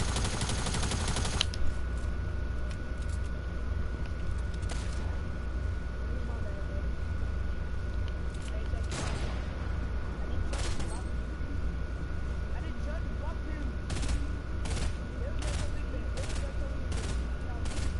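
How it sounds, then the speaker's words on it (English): Rapid gunfire from a FAMAS rifle in Fortnite Save the World, a dense burst of repeated shots at the start followed by scattered sharp reports over a steady game background, with a voice talking throughout. "I shot him in the head with the FAMAS"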